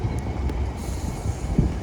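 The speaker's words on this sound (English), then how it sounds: "Arriving now is the 1326 Scotrail service from Dalmuir to Cardonald." A ScotRail train on the 1326 Dalmuir to Cardonald service pulls into a Glasgow-area station. The low rumble of the wheels is steady and close, with a brief squeal near the end.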